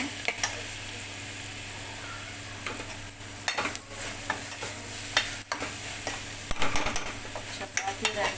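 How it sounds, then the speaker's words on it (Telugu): Leafy greens for ponnaganti curry stir-fry in a pan, with steady low sizzling and frequent scraping and clanking stirs that grow busier toward the end, close up with no talking. "ఇలా మధ్య మధ్యలో కలుపుతూ ఉంటే ఫ్రై చేసుకోవాలన్నమాట"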